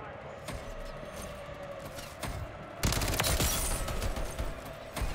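Rapid bursts of FJX Horus SMG fire in a Modern Warfare 3 match, sharp volleys that intensify midway, mixed with game effects and a player talking over the action.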